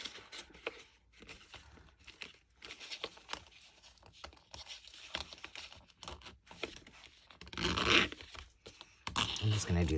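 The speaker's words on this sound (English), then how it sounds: "this zipper just does not want to, need some oil on it" A stiff zipper on a junk journal is dragged back and forth in short, uneven scraping bursts, close and fairly quiet, growing louder near the end with a voice talking between pulls.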